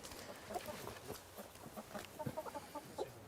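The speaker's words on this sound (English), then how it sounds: "Let's go see the chickens. There they are." Hens cluck in soft, scattered bursts around a farmyard, with quiet background noise and occasional louder clucks near the end.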